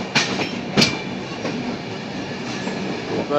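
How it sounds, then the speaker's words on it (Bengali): A train pulling out of a station in India on the way from Kolkata, steady close rumble of wheels rolling on rails with a few sharp clicks and knocks, heard from inside the coach with no talk. "আমাদের ট্রেন কিন্তু ছাড়ছে, দেখো।"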